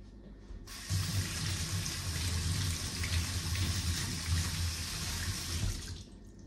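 Water from a kitchen tap runs steadily into a sink while vegetables are washed, a close, continuous splashing rush that starts abruptly after a second and stops just before the end, with no talking.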